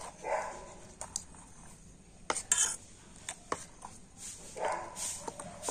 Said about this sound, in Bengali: জল দিয়ে ব্যাটারটা কিন্তু খুব ভালোভাবে আবার গুলে নেব।